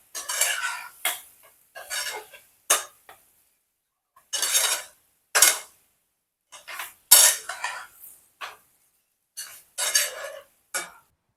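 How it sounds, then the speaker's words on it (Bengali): A spoon scrapes and clanks around a pot of taro curry in short, separated bursts of stirring, close and fairly loud with quiet gaps between strokes, no voices. "আবারও ভালো করে একটু নাড়িয়ে নেব"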